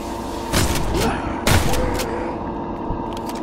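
Two heavy shotgun blasts from Valour Zombies go off about a second apart, each a sharp broadband bang with a short echo, over a constant background hum.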